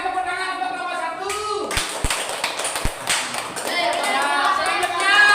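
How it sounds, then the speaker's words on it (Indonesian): Classroom applause for a student group that just presented, a burst of hand claps from children and teacher mixed with a few sharp taps, with talking before and after. "lagi sekali tepuk tangan untuk kelompok 1."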